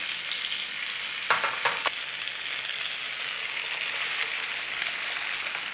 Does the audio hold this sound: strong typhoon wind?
no